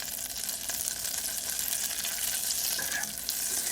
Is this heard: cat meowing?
no